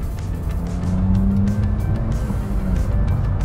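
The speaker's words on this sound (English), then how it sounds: "It's powered by a 1 litre naturally aspirated 3-cylinder petrol engine" A Fiat 500 Hybrid with a 1-litre naturally aspirated three-cylinder petrol engine drives along a seafront road, giving a steady low engine drone and road rumble heard from inside the car, with no one speaking.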